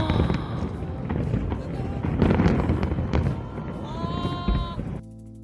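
Fireworks bursting outside at night, heard from a third-floor vantage, come through as a steady crackle and booms that fill the scene, with a brief whistling tone near the end before it cuts to quiet.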